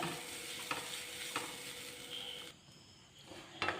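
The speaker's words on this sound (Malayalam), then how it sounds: "തേങ്ങ നന്നായിട്ട് വറുത്തെടുക്കണം" Grated coconut roasts in a pan for a Kerala evening snack, giving a soft dry sizzle with several scraping stirs, then a brief lull and a final scrape.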